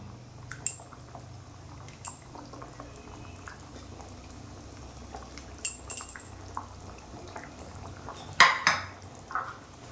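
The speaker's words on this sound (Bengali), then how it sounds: "ভাজা বাটা মাছগুলো দিয়ে দিলাম।" Fried bata fish dropping into a simmering Bengali curry, with a low bubbling bed, scattered clinks of a pot and utensil, and a sharper splash-and-clatter burst toward the end.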